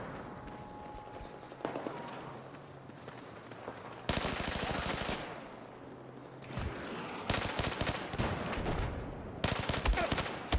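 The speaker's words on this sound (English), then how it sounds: "Wow, nice sniper shot." Gunfire in the video game Battlefield 4 comes as repeated sharp bursts and rattling volleys, including sniper rifle shots, loud and dense over several seconds with faint background game noise.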